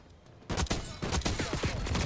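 Rapid bursts of AK-47 assault rifle fire in the Black Ops 6 first-person shooter, loud and close, with a quiet lead-in before sharp repeated shots crackle in quick succession.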